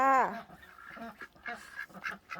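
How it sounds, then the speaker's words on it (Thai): Several nasal quacks from domestic ducks, one loud call followed by softer chattering quacks close by. "อันนี้เป็ดรุ่นสองจ้ะพี่น้อง เป็ดรุ่นสอง"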